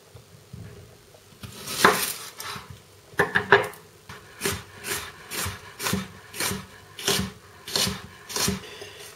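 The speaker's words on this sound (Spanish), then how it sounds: "vamos a coger la cebolla morada y la vamos a cortar en juliana" A knife cuts red onion into julienne strips for ceviche, with a run of crisp, evenly spaced chopping taps against the board, close and fairly quiet, quickening into a steady rhythm.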